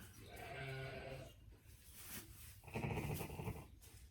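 A newborn ewe lamb gives two close, wavering bleats during lambing season, the second louder and longer, with faint handling noise in between.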